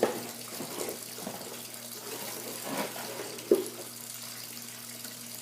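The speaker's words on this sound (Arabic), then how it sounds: "وهنسيب الغسالة تتملي بالمية" A household washing machine fills with water, a steady running, splashing flow with a low mechanical hum beneath it and a couple of brief clunks, heard close by with no talking.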